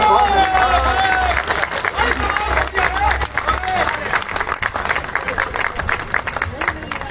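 Audience at a Teej fair poetry gathering in Sirsaganj applauds a poet, dense sustained clapping mixed with crowd noise and a voice over it throughout.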